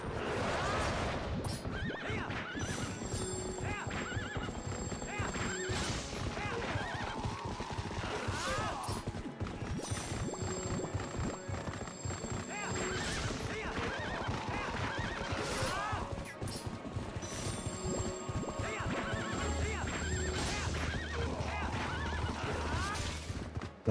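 Horses neigh and whinny repeatedly over steady clip-clop hoofbeats during horseback riding in the video game Twilight Princess, with game sounds and some commentary talk.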